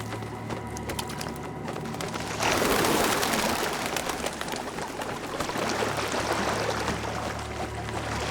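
Pigeons coo softly on a riverbank among steady flowing water and wash, the calls low and intermittent beneath a continuous rushing backdrop, with a louder splash or surge partway through.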